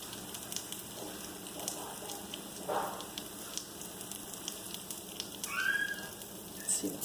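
Keto bread and an egg fry in a pan, giving a soft steady sizzle with faint crackles and small pops across the whole stretch, quiet and close, with brief clinks from handling near the end.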